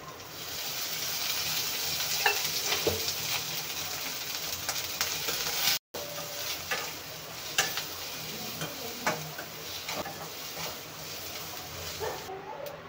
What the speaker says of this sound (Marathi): घालूया याच्यात थोडंसं तेल, म्हणजे कांदा आपला लवकर भाजला जाईल